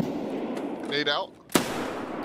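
A grenade bursts with one sharp, loud blast in the Escape From Tarkov Factory map, right after a brief spoken callout, with steady game background noise around it.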